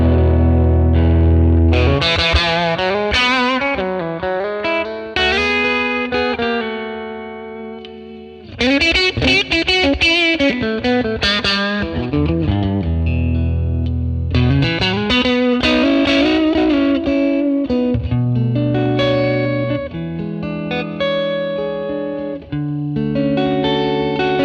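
Crunchy overdriven electric guitar from a Telecaster played through a ToneX model of a 1957 Fender Tweed Bassman amp, with strummed chords and single-note phrases, loud and continuous with short pauses between passages.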